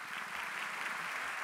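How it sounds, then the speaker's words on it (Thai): An audience at a school music championship applauds, a broad, continuous patter of many hands clapping together, even and sustained from start to finish with no talking. "งั้นปรบมือให้อีกสักครั้งสิครับ"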